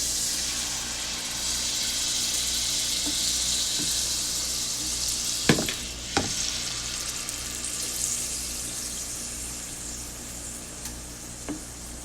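Eggs for a scrambled omelette fry in a hot pan with a steady, bright sizzle throughout, broken by a few soft clinks and stirring taps.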